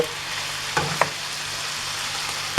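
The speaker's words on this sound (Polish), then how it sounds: "Niech się podsmaży." Potatoes and onion frying in a pan give a steady, broadband sizzle that runs throughout, broken by a couple of short stirring clicks near the middle.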